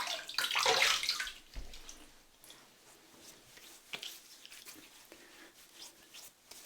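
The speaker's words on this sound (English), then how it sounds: "Let's have a rinse." Running water rinses the face during a wet shave with a Gillette Tech razor. A brief gush of water comes first, followed by faint splashes and drips in a quiet room.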